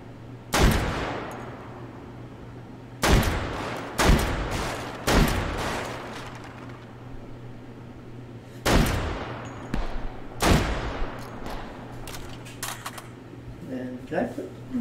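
Guns firing in the VR shooting game H3VR: a series of sharp, loud shots spaced irregularly over several seconds, with a player talking between them.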